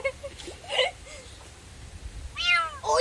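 A cat meows loudly twice, with a quieter yowl in between, as fleas are picked from its fur; people talk quietly nearby.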